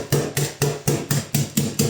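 Steady, rhythmic soft slaps, about eight evenly spaced thumps, close and fairly loud, as inverted puff pastry dough made with beurre manié is patted all over to spread it.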